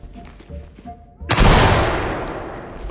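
Inside a tactical shooter game, a flashbang grenade goes off with a sharp, loud blast that rings and slowly fades over the next seconds, after quieter game sounds and faint voices.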